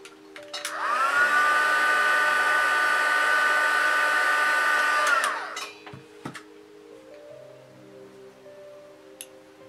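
A heat tool blows hot air to heat-set paint, a loud steady whirring rush with a high whine that spins up, holds for about four seconds, then cuts off, leaving quiet room noise with a few faint clicks.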